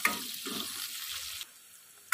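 Onion, ginger, garlic and chilli fry in a pan while being stirred, a soft crackling sizzle with scraping stir strokes that drops to a quieter hiss, then a brief clink at the end.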